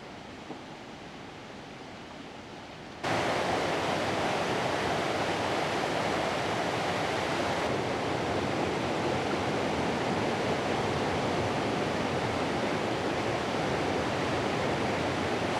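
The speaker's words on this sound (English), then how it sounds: "I can hear the river now as well" A river flows steadily nearby on a mountain hike and wild camp, a broad continuous rushing wash that starts softer, then jumps louder after about three seconds and holds evenly, with no talking.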